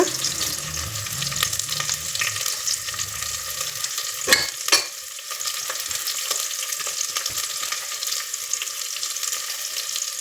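Chopped onions hit hot oil for sambar with a bright, continuous sizzle close by, stirred with occasional scraping knocks and a couple of sharp clatters near the middle.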